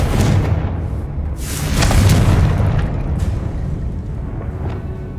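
Bombarda and Confringo blasting spells in the Hogwarts Legacy video game set off deep, rumbling explosions, a heavy swelling boom near the middle over continuous low roaring game noise, with no talk.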